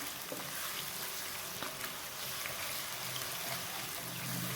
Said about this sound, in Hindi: और ब्राउन होने तक मैं इसे फ्राई करूँगी।